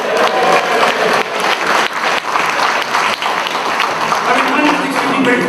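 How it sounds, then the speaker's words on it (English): An audience at a London corporate governance and sustainability convention gala claps and cheers for India, a loud, sustained wash of applause with whoops and shouts filling the hall from start to finish. "Can we have a cheer for India?"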